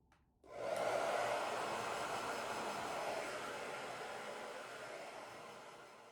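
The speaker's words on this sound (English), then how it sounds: "I'm going to show no difficulty blow drying my hair." A handheld hair dryer switches on and blows a steady, close rushing airflow that stays loud and even, fading slightly toward the end, with no talking.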